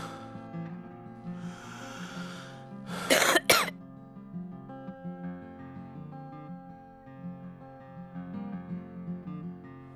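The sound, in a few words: child coughing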